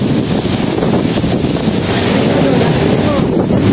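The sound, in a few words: strong wind on a cruise ship deck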